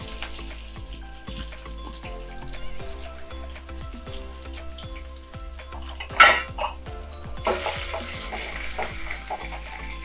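Onion fries in oil with mustard seeds and a dried red chili in a pan for a bottle gourd curry. A steady sizzle runs throughout, with close stirring scrapes and clinks of a utensil against the pan.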